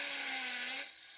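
A power drill bores an anchor hole, with a loud, steady whining grind that drops off sharply near the end as the drill shifts in the hole.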